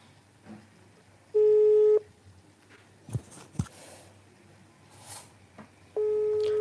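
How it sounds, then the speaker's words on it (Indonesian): Two bursts of a steady electronic telephone tone, one near the start and one at the end, from an outgoing call that goes unanswered. A faint room hum and a few soft clicks sit between them, and no one speaks. "Habib Syahril nggak keangkat"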